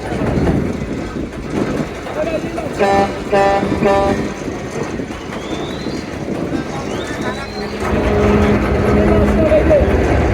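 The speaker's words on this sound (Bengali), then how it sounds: "ধীরে ধীরে স্পিড বাড়াচ্ছে ব্যাক গিয়ার এম খান সাত" Passenger launch M Khan 7 backing out in reverse gear, its diesel engine churning under repeated horn toots, with people talking loudly nearby throughout.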